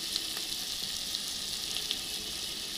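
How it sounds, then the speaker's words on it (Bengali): Crab curry masala with ginger paste, chopped tomato and green chilli fries in a pan, making an even, close, steady sizzle with faint stirring taps now and then. "এবার আমি নাড়াচাড়া করে নেব"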